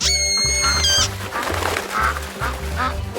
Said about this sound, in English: a tiny noisy novelty that makes eccentric sounds when you give it a blow.